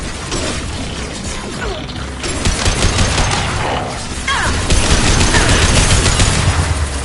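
Sustained gunfire in the video game Mass Effect 2, a dense rapid clatter of shots and impacts building louder in the second half, continuous and up close with no pauses.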